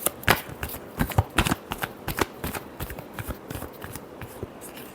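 Close, lively riffling and tapping as a tarot deck is shuffled, with brisk irregular bursts that thin out toward the end and no voices.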